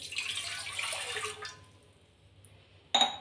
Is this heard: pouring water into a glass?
yes